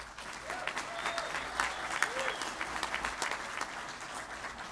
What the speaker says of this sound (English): join me in one more round of applause for the graduates